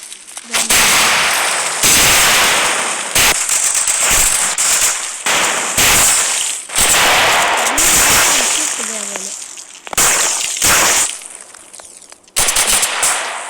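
Firecracker bombs go off in long, dense bursts of crackling explosions, loud and close, broken by short pauses, with voices talking in between.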